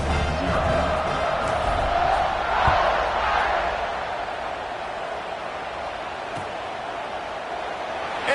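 A home crowd at an American college football game, Arkansas against Notre Dame, cheers after an extra point, a broad, steady roar of voices that holds throughout and eases slightly toward the end.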